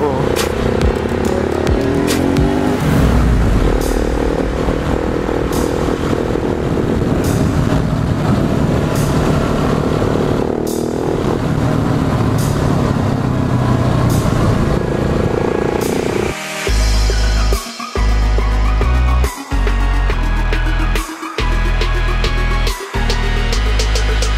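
A 2018 KTM 690 SMC R supermoto fitted with an Evo kit accelerates hard, its engine loud and raspy with rising revs, then cut by sharp gear changes and throttle bursts toward the end; wind noise and talk mix in.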